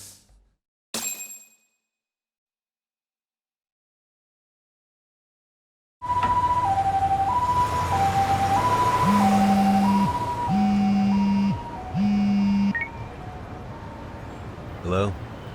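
An ambulance siren in the video game Lost Judgment, alternating two-tone wail over traffic rumble after a silent stretch, preceded by short bursts of sound, with a second lower siren tone joining midway.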